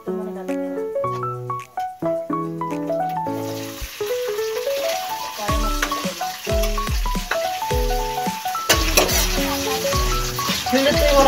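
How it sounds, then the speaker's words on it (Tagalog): Squid balls frying in hot oil, a steady loud sizzle building after a few seconds and continuing under music-like tonal sounds throughout. "Prito lang natin siya ng konti."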